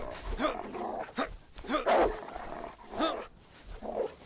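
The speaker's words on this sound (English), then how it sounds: "Oh, shitting wolves." Wolves in the DayZ video game growl and bark in a string of rough, medium-loud calls and snarls over a low, noisy game backdrop, with no talk.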